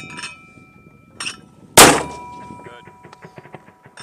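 A single loud, sharp boom from an 81 mm mortar firing, close by, followed by shouted commands and clatter from the crew around the gun.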